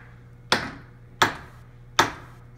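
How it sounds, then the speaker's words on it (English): A small hammer strikes a hard Starboard polymer board three times at a steady, unhurried pace. Each blow is a crisp, sharp knock that dies away quickly, with no voices. "Start off with a smaller hammer."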